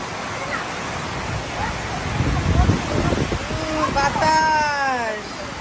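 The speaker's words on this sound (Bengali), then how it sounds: "আর বৃষ্টি দেখুন" Heavy rain pours down with wind as a dense, even hiss of noise, rising a little midway, with a voice-like tonal sound breaking through near the end.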